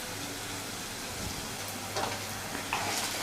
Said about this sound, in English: So you need to saute it till the shallots turn transparent.